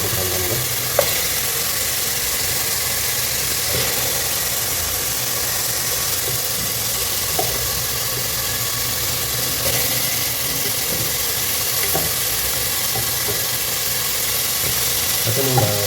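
Mutton pieces sauté in butter for a Dindigul-style mutton biryani, making a continuous dense sizzle up close, with a few soft clinks of a utensil against the pot.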